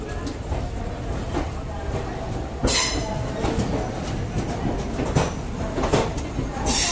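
Kaveri Express passenger train from Chennai to Mysuru pulling away with a steady, loud rumble of wheels on track and occasional sharp clanks and squeals, heard from on board with faint voices underneath.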